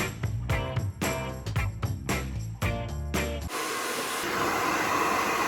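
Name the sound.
hair dryer blow-drying hair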